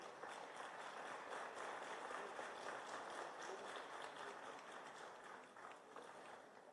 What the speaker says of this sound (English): A round of applause to President Whips.